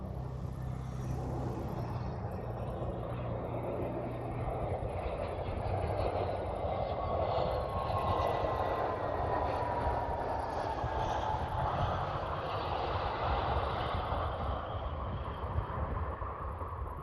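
A Brussels Airlines special-livery airliner landing in gusty wind on runway 25L, heard as a steady broad jet roar from a distance with a slowly falling engine whine and constant wind rumble, no talk.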